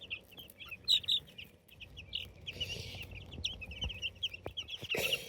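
Chickens in a backyard run cluck and chirp softly at close range, giving short, irregular calls over a quiet background.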